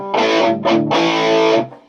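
Two heavily distorted electric guitar chords, played with a Fulltone Ranger treble booster and distortion, ring out, a short stab and then a longer sustained one that fades away.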